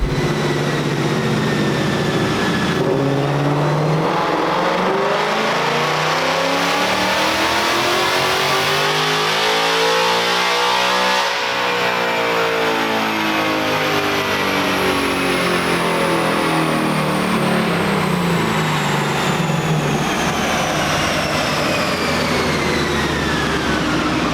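A 2021 Ford Mustang Mach 1 V8 with long tube headers and a custom tune roars at full throttle on a chassis dyno in sixth gear, its pitch climbing steadily through a long, loud sustained pull with no talking.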